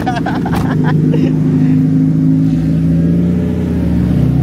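An old-model Toyota Corolla's engine revs steadily at a race track during a time trial, a loud, sustained droning hum that rises early and holds, close by with no talk over it.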